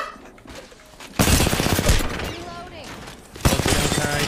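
EVA-8 shotgun in Apex Legends fires in two loud bursts, the first long blast cluster followed by a sharp second volley, amid chaotic game sounds and excited voices.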